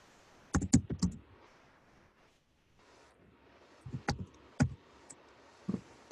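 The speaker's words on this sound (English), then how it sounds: "I can type it out." Typing on a computer keyboard, with short quick bursts of close clicking keystrokes separated by quiet pauses, no talking.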